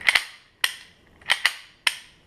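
Dry-fire clicks from a Ruger Mark III 22/45 Lite pistol with the magazine removed, five or six sharp, close metallic snaps at irregular intervals, some in quick pairs, with no talk.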